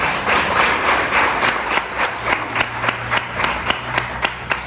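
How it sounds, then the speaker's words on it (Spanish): A church congregation applauds newly baptized members: a broad wash of clapping settles into a steadier rhythmic clap, with a low hum running underneath, moderately loud and without speech. "Demos un aplauso por esos hermanos que se bautizaron."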